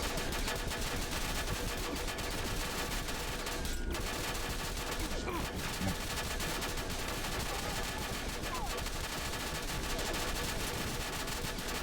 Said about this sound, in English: everyone just shooting at me apparently